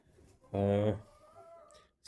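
A hen or rooster calls once, close and loud, from a backyard coop holding nine hens and a rooster, with quieter clucks and a faint voice around it.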